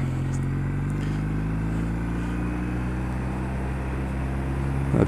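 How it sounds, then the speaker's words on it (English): A Kawasaki W800 Cafe, an 800cc 45 bhp parallel-twin motorcycle, being ridden on a road at night, its engine giving a steady, close, even-toned drone with no talking. "it's only an 800cc 45 brake horsepower parallel twin, it doesn't feel sluggish in any way, shape or form"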